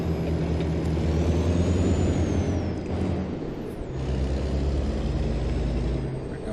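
A heavy truck with a trailer pulling away in American Truck Simulator, a steady low engine rumble with a hissing air-brake release and a gear change midway, loud and continuous with no talk.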